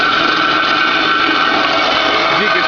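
A hydraulic down-feed bandsaw with an internally leaking ram runs in a workshop, giving a steady, loud mechanical drone with a bright whine on top that holds even throughout.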